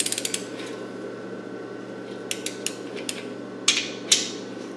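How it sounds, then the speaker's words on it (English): A torque wrench tightens Maxion bearing cap bolts progressively to 133, giving a run of light ratcheting clicks, then scattered clicks and two louder snaps near the end over a low steady hum. "Now it says torque it down to 133, and that's what we're going to do."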